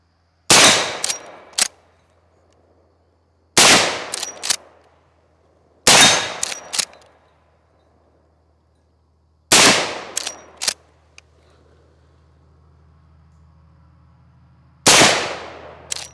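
A Marlin 1894 lever-action rifle in .44 Magnum fires five loud, sharp shots outdoors, each followed by quick metallic clacks of the lever cycling, with pauses of a few seconds between them.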